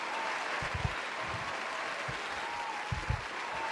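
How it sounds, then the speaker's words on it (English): Faint crowd cheering and applauding as a steady distant roar of clapping, with brief low thumps, quiet in the background. "They can't stop cheering for you."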